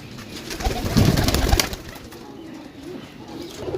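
Pigeons at a loft for sale in Jhelum, Pakistan, cooing with low throaty burbling close by, swelling in the middle and then fading to softer murmurs.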